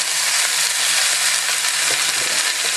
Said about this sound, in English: I'm going to mix all this together